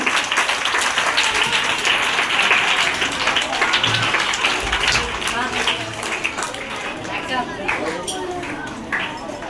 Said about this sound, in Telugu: క్లాప్స్ కొట్టండి.